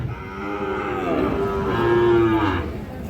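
Sahiwal breed calves low out with drawn, harmonic moos at a busy rural cattle market, one call swelling and fading over a few seconds, close and fairly loud above a murmur of crowd noise.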